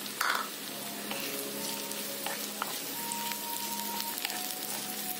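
Tomato sautéing in a pot for red cow pea misal, a moderate crackling sizzle with a few sharp utensil clinks and light stirring scrapes, no one speaking.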